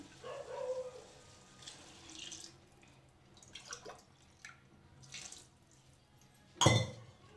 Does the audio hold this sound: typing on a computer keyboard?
no